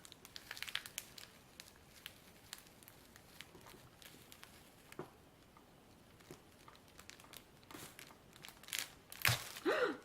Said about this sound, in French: Je vais enlever le scotch pour pas faire de dégâts.